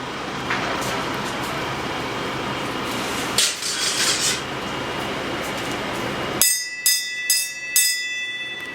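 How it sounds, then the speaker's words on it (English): A bell rung at the end of a one-day hundred-dollar paint job, a few bright clangs in the final seconds after a stretch of steady rasping, rubbing noise. "will you ring the bell so we can end this video?"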